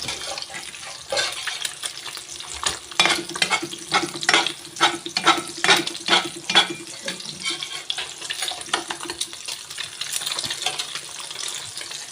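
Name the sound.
eggs frying in a pan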